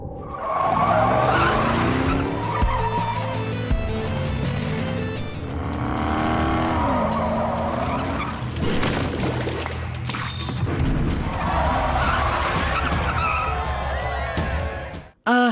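Race cars in a film skid around a corner with long, loud tire squeals and roaring engines, continuous and close, layered over dramatic background music with no speech.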